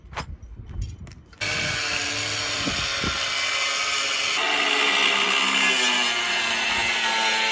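After a few brief knocks, a grinder spins up abruptly and keeps running with a loud, steady high whine in a workshop where bolts and steel are scrapped, close and uninterrupted.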